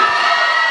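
A large audience claps and cheers all at once in a dense, loud, continuous burst at a Tamil motivational speech event, with no talk over it.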